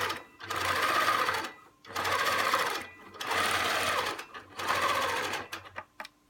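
A longarm quilting machine stitches in the ditch with a ruler, running in four steady whirring bursts separated by brief pauses, close and moderately loud.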